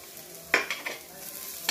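Carrots and green chillies fry in a pan for bread pakora, a steady low sizzle broken by a few sharp stirring scrapes, close and alone with no talk.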